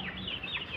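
Plump, double-bodied chickens weighing around a kilo each cluck in one short, fairly faint burst.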